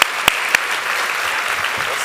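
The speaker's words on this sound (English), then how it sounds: "let's give Paulo a big round of applause" An audience claps for Paulo, a few sharp close claps at the start giving way to a steady, dense wash of applause that carries on evenly to the end.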